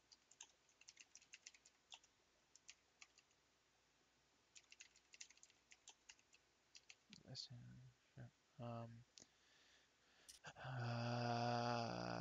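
Typing on a computer keyboard, a steady run of quick, faint clicks and key taps, then louder noises and people talking near the end.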